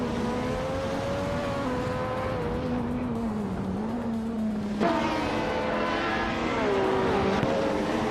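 Late-1980s Formula 1 race cars lap the Oschersleben circuit in a racing game, with steady high-pitched engine whines that rise and fall through gear changes and a brief tire squeal.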